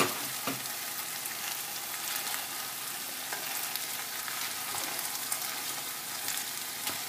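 Corn is stirred into chili con carne in a pan, giving a steady quiet sizzle of frying broken by occasional soft scrapes and taps of the spoon.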